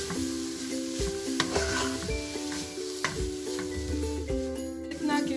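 Chopped vegetables, including green chili, spring onion and coriander, sizzle and get stirred in a pan with steady close frying hiss, while a utensil scrapes and taps the pan in bursts throughout.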